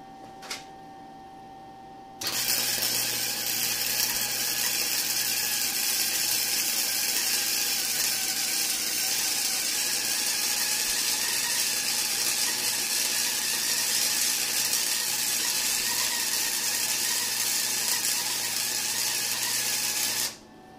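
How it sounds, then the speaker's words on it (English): The upgraded cooling fan inside a Harbor Freight Flux 125 welder switches on and runs with a steady, close whirring hiss, then cuts off abruptly near the end. "I think it actually moves a pretty decent amount of air with that upgraded fan they got in there."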